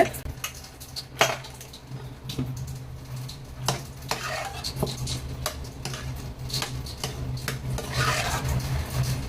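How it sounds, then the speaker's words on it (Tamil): A spoon scrapes and clatters in a pot of brinjal sambar, with irregular knocks and scraping strokes over a low simmering background, fairly close. "இப்போ இதை நல்லா கிளறி விட்டுட்டு"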